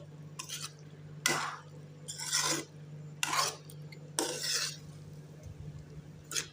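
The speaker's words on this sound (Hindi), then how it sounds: "अब इसी टाइम हम ऑयल ऐड करेंगे, अच्छे से मिक्स करेंगे।" Turnip (shalgam) curry with oil being stirred in a pan, heard as four or five separate scraping strokes of a utensil against the pan, close and moderately loud, separated by short quiet gaps with a low background hum.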